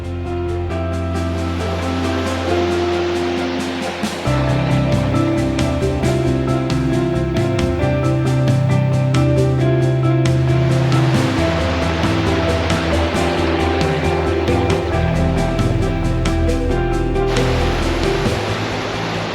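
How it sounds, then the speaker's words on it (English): A river flows beside a mountain trail on the lower slopes of the Galtee Mountains, a steady loud rushing wash of water that continues without a break and with no talking. "Now I have the river on my right, accompanying me all the ways to the lower slopes of the Galtee Mountains."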